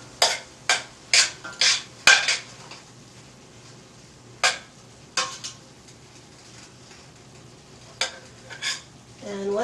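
Ground beef with red chili powder is stirred in a pan for gluten-free red enchiladas: a quick cluster of loud scraping strokes, then scattered spaced scrapes over a faint sizzle, close by.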